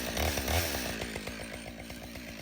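A chainsaw bucks a log for firewood, its engine snarling loudly at first and then settling into a steady, slightly lower buzz as the chain works through the wood, close by with no voices.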